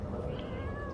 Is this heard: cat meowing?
yes